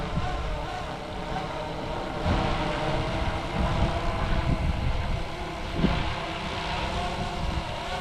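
A Flywing FW450 Airwolf RC helicopter descends from high up, heard as a distant, steady motor whine and rotor drone with wind noise, holding fairly even throughout.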